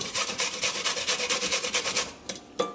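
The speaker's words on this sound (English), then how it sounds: "grate that ginger, and you're using about 1 pound of ginger or so" Fresh ginger root is rasped against a box grater in quick, steady strokes, a loud close scratchy scraping that runs continuously, then breaks into a few separate strokes near the end; no one speaks.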